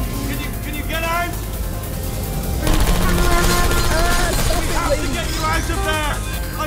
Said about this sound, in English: look out for gunfire